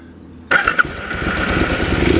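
A motorcycle fitted with a meter alarm starts up close by. After a short quiet lead-in comes an abrupt crank and catch, a couple of quick revs, and then a steady, rough idle.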